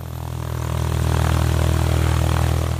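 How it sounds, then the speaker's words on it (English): A light propeller airplane in flight, its engine giving a steady, loud drone with a low humming tone that holds level for about three seconds with no voices. "Light airplane."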